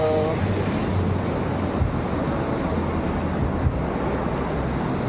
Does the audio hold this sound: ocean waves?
yes